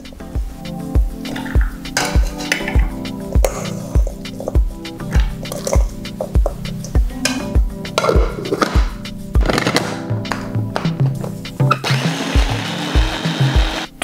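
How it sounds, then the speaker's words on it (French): A small kitchen blender mixing chicken for Japanese tsukune skewers, a loud close whirring with rapid rhythmic thumps and pulses as the meat churns, ending with a brief wetter settling sound. "Donc moi j'ai un tout petit mixeur, du coup je vais le faire en deux fois."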